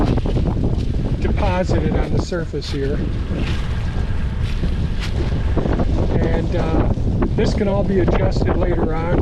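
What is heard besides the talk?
wind blowing on microphone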